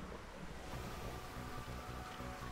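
Steady wind roar in a Geometry Dash community level, a dense continuous broadband rush with low rumble, holding at an even loudness for the whole stretch with no talking.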